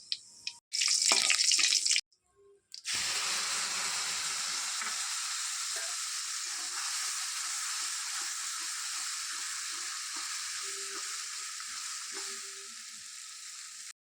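Bay leaf, a dried red chilli and cumin seeds hit hot oil in a kadai, erupting into a loud, hissing sizzle that holds steady and slowly eases, after a few brief clanks at the start.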